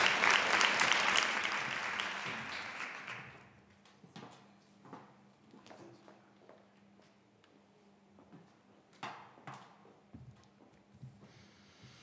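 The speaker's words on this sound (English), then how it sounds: "let's give them a round of applause" An audience at a Chamber of Commerce health and business luncheon claps loudly for about three seconds, then the applause fades into scattered room noise, soft knocks and shuffling.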